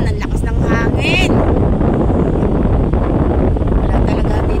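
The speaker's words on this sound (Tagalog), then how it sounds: "Yan, ang lakas ng hangin." Strong wind blowing at a shoreline under a darkening stormy sky, a loud continuous roar buffeting the microphone, with a faint voice briefly audible near the start.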